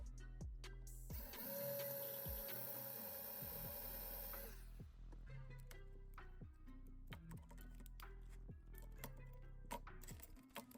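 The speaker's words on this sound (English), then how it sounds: "we'll use this large drill bit and pop the head off that post so we can take the body from the base" A large drill bit grinds the head off the metal post of a 1982 Hot Wheels Bronco diecast model in a steady, whirring burst of several seconds, followed by scattered clicks and taps of handling the parts, quiet and close.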